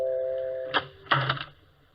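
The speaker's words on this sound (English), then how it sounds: "listen to that doorbell" A doorbell in an old radio drama chimes a Chopin tune through a few ringing tones, heard indoors at moderate volume and fading quickly.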